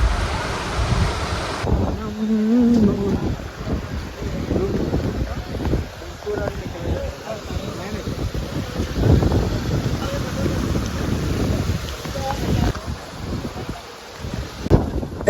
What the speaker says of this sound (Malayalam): നല്ലപോലെ കാറ്റുണ്ട്.